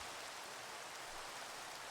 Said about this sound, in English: it is raining like crazy